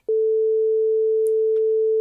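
A steady synthesized sine tone holds at one pitch for about two seconds, loud and clean, built in Unreal Engine 5 MetaSounds with a sine-wave LFO, starting and stopping abruptly.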